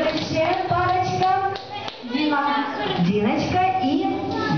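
Applause at an indoor party game, with scattered hand claps under lively overlapping voices.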